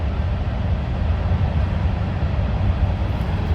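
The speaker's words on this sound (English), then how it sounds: "The noise you're hearing is a train that's passing through right there." A deep, continuous rumble of a train passing near Michigan farmland fills the clip, low and steady with a faint roar and no voices.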